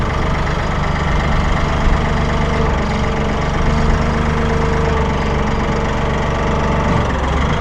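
A Massey Ferguson 1835M or 1840M eHydro compact tractor engine idles steadily nearby, a loud, even, low mechanical rumble with a faint rhythmic knock throughout.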